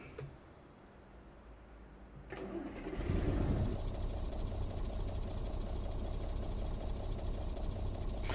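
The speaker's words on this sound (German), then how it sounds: "ich mache hier den Motor an" After a quiet start, a Mercedes SK truck engine in Euro Truck Simulator 2 cranks and catches, then settles into a loud, steady rumbling idle.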